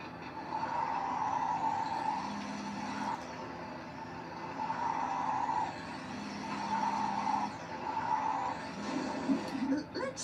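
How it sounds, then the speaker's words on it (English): Game engine drone of a cartoon boatmobile in a SpongeBob driving game, revving steadily as it slides around a corner under a held handbrake, a continuous close hum with slight pitch swells throughout. "Go ahead and give it some gas and then hold the handbrake."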